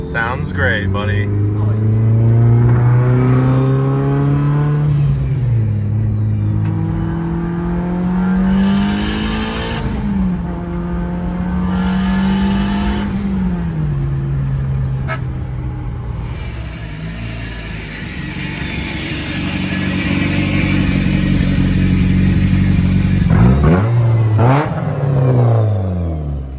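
A Mitsubishi Evo wagon's engine revs and holds high, its pitch rising and dropping through gear changes, with a voice talking over it and a tire squeal near the end.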